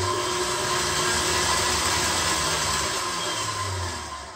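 An electric whisk beating low-fat blueberry muffin batter in a bowl, a loud continuous motor whir held steady close by, easing off slightly near the end.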